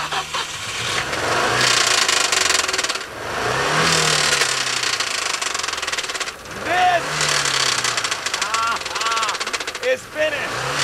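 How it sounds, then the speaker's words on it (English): A PS23 car lapping a track, loud continuous engine noise with revving surges and passing swells, with people talking over it. "the car with PS23 is still clicking around the track."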